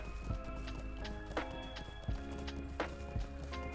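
Horse hooves clip-clop at a steady trot in The Lord of the Rings Online, with rhythmic sharp thuds repeating over a constant ambient game bed at moderate volume.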